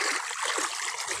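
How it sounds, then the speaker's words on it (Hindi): Clean tubewell water streams along an irrigation channel into farm fields, a close, bright rushing and trickling flow that stays steady through the brief moment. "यहाँ से जो है पानी जा रहा है,"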